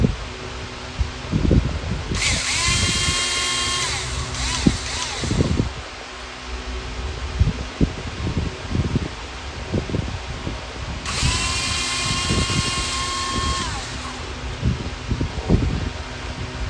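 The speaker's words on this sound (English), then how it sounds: "Now my driver of choice is my trusty old Snap-on" An old Snap-on 7.2 volt cordless driver whirs in two separate bursts of a few seconds each on a workbench, used for an RC axle repair, with clicks and handling knocks of parts in between.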